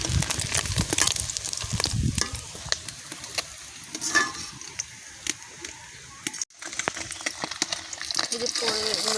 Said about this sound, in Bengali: এই যে পরেগুলো না আমি ভেজে নিচ্ছি